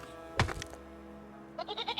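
Goat bleating in the video game REKA: one loud cry near the start, then a rapid series of short, higher bleats toward the end over a steady game background.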